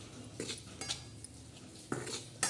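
A spoon stirs gram-flour (besan) batter mixed with water in a bowl, making a few soft, close clinks and scrapes spaced irregularly over quiet background.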